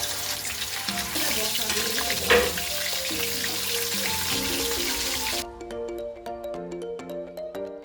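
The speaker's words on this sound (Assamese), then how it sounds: "এতিয়া মই মাছখিনি ফ্ৰাই কৰি লৈছোঁ।" Fish fries in a measured amount of oil, a steady crackling sizzle lasting about five seconds with background music playing over it, then the sizzle drops away and only the music continues.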